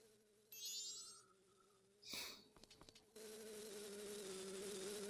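A bee in Majora's Mask buzzes in short bursts within the game's sound, with chiming effects and a thump partway through before a steady hum resumes; faint and mid-distance.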